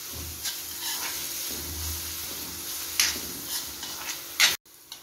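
Onion and garlic fry over medium heat in oil in a kadhai, with a soft continuous sizzle under a few scraping stirs and clicks of a spoon against the pan.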